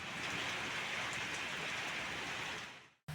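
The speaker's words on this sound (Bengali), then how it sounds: "রাজধানী ঢাকাসহ দেশের বিভিন্ন এলাকায় অস্বাভাবিক ধরনের বৃষ্টি হয়েছে" Dense, steady rain pouring down over Dhaka with a constant hiss, loud and unbroken for nearly the whole stretch before cutting off abruptly.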